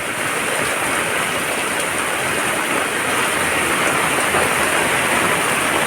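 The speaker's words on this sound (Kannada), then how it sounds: "ಮಳೆ ನೀರು" Rainwater running down from a hillside during heavy rain, a steady, loud, close rush of flowing water that holds at the same level throughout.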